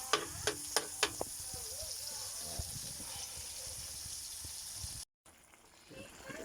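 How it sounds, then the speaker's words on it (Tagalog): Mung beans being sautéed and stirred in a hot pan with aromatics for ginisang mongo, giving a steady close sizzle with a few sharp clinks of a utensil against the pan early on and a brief gap near the end. "Lagay na natin yung munggo guys, tapos halo-haloin lang natin."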